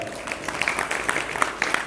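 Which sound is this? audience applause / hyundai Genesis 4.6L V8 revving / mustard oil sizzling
audience applause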